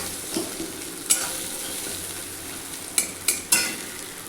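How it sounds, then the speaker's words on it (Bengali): Potatoes seasoned with turmeric and salt fry with a steady sizzle in a pan, while a few sharp scrapes and clinks of a spatula stirring them stand out, clustered near the end. "একটু নাড়াচাড়া করতে হবে নাড়া করে আলুগুলোকে ভেজে ভেজে নিতে হবে"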